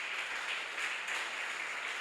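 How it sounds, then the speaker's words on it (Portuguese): A church congregation applauds, a dense, steady wash of many hands clapping together, heard at a moderate distance and continuing without pause, with no voices on top. "Você pode aplaudir o Senhor?"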